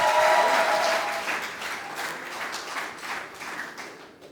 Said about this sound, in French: acclamons pour le Seigneur au nom de Jésus-Christ.